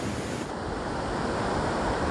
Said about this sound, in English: Water falling from 100 meters and making a foam.